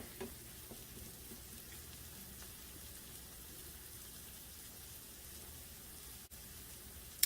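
Scrambled eggs for breakfast tacos frying in a pan, a steady even sizzle and crackle throughout, close and continuous, with a few faint clicks.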